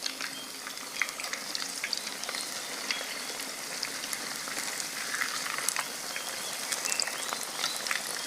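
Lau leaf-wrapped masoor dal paturi frying over low heat in a pan, a dense, even crackling sizzle that holds steady throughout, with no voices.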